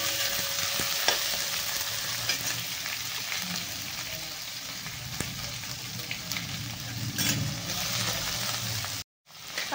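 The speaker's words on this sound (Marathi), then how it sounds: "कांद्याला छान असं लाल होईपर्यंत आपल्याला परतून घ्यायचं" Onions sautéing in a pan for kanda poha, a steady sizzle and fry running throughout, with occasional stirring scrapes and a brief dropout near the end.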